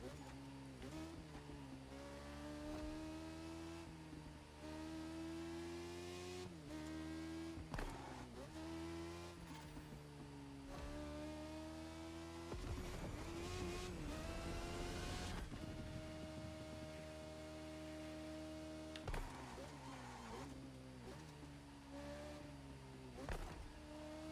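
A car engine in the racing game The Crew Motorfest holds a high, steady full-throttle roar, its pitch shifting with gear changes and a few dips, loud and continuous throughout.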